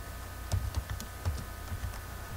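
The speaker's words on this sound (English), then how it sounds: "So you can type Google" Light computer keyboard typing, a handful of soft scattered key taps over a steady background hum, heard alone.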